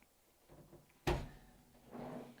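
A cabinet drawer in a cargo trailer camper conversion shuts with one sharp wooden thunk, framed by softer sliding and rustling before and after, close and quiet.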